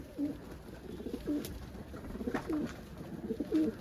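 Domestic pigeons of the Budapest breed cooing nearby in a loft, repeated soft, throaty calls spaced about a second apart, over light background noise.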